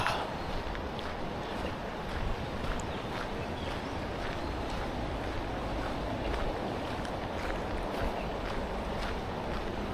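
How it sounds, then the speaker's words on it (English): Water rushing somewhere below a wooded rail-trail on the Montour Trail, a steady broadband wash that stays continuous and fairly even throughout, with light wind buffeting mixed in and no voices. "You can hear that water down there."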